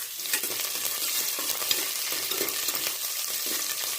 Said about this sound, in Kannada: ಇವಾಗ ಇದಕ್ಕೆ ನಾನು ಕಟ್ ಮಾಡಿ ಇಟ್ಕೊಂಡಂತಹ 2 ಹಸಿಮೆಣಸಿನ್ಕಾಯಿ ಹಾಗೆಯೇ 2 ಒಣಮೆಣಸಿನ್ಕಾಯಿನ ಹಾಕ್ಕೊಳ್ತಾ ಇದ್ದೀನಿ.